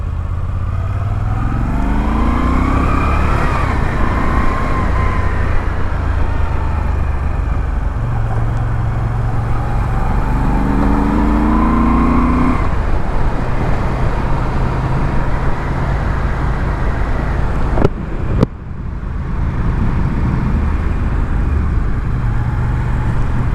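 A Moto Guzzi V7 motorcycle engine revs and pulls toward about 3000 rpm, a steady loud drone with rising and falling pitch sweeps as the throttle opens, close to the rider throughout.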